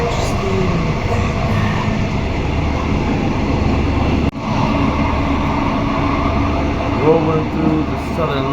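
A train rolls through southern Thailand with a steady low rumble and rattle, a sharp clunk midway, and a voice speaking faintly over the noise.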